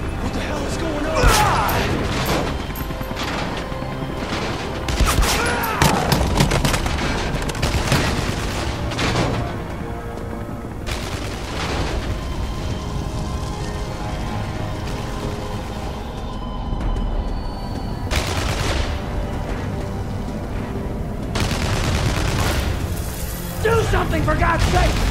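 Bursts of gunfire and heavy booms from the video game Beyond Two Souls, loud and repeated over roughly half a minute of chaotic action, with shouting voices mixed in between the shots.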